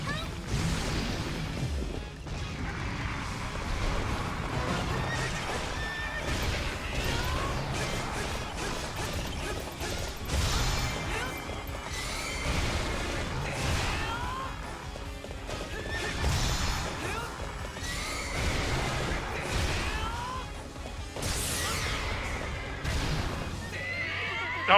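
Horse neighing and whinnying amid galloping clip-clop hooves, crashes and battle clatter in Hyrule Warriors: Definitive Edition, dense and continuous with faint game music underneath.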